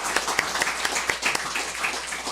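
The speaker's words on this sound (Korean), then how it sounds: "이 시간에 우리 큰 박수로 격려해 주시기 바랍니다." A church congregation gives a round of applause to honour a devoted member, a dense, steady patter of many hands clapping throughout.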